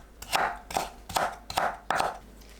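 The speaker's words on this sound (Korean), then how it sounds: "당근은 채 썰어주세요." A knife julienning carrots on a cutting board, five evenly spaced, crisp chopping strokes in a steady rhythm, close and clear with no voices.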